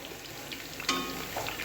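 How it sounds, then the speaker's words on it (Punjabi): Bitter gourds (karela) frying in a generous amount of oil in a wok, giving a steady, soft crackling sizzle with a brief sharper pop partway through, close and fairly quiet. "ਗਾਈਸ ਮੈਂ ਇੱਥੇ ਨਾ ਕਰੇਲਿਆਂ ਨੂੰ ਜਿਹੜਾ ਤਲਣ ਲੱਗ ਗਈ ਸੀਗੀ"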